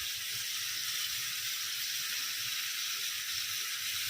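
Boal fish cooking in a hot pan, a steady bright hiss and sizzle throughout with faint low bubbling underneath, no talk.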